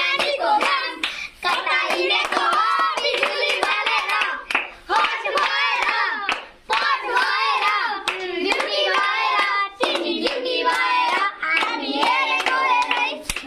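Children clap their hands at a picnic party in quick, rhythmic bursts, loud and close, broken by short pauses and mixed with singing and children's voices.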